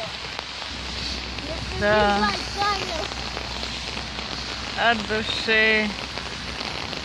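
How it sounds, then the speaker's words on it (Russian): Steady, intensifying rain pattering on a surface outdoors during a walk, with short bursts of nearby Russian speech rising over the downpour. "Давай, дождь усилился."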